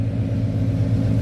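A pickup truck's engine idling steadily just after starting, a low constant rumble with even throbbing, close and alone with no voices.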